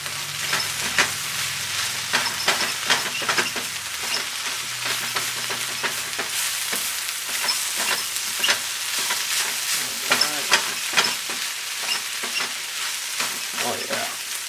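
A mushroom mixture with smoked paprika frying in a pot for vegan red curry ramen, loud steady sizzling broken by repeated spoon scrapes and stirring knocks, close by with no speech.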